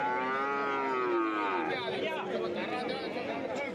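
A large buffalo at a busy livestock market gives a long, loud, drawn-out moo close by, with a crowd chattering behind it.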